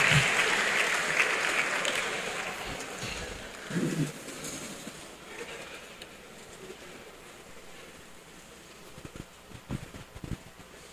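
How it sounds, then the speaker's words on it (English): An audience at a university lecture series in Ogbomoso applauds as the Vice Chancellor's representative walks to the podium. The clapping is a diffuse, steady wash that is loudest at the start and thins out, with a few scattered knocks near the end. "A round of applause for him as he comes to the podium,"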